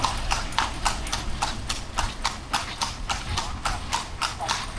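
Hooves of a horse-drawn carriage clip-clop on a road in Lampang, Thailand, in a steady, even rhythm of sharp, close beats over a low rumbling background.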